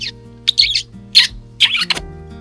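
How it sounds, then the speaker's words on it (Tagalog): Bird calls ring out in short high-pitched bursts, four or five separate chirps spaced through the moment, fairly close and clear over a low steady background hum. "Nung ibon yun."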